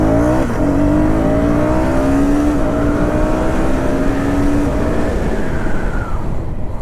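A KTM Duke 250 motorcycle brakes hard from about 70-80 km/h. Its engine note, loud and close, drops steadily in pitch as it slows, with wind rush underneath.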